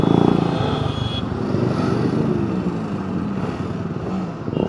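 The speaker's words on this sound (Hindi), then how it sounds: "पहले बाइक लाइनअप करा लेते हैं।" Group of motorcycles gathering and lining up before a large group ride of about 110 riders, with engines idling and revving in a steady, fairly loud rumbling mix, a brief higher whine early on.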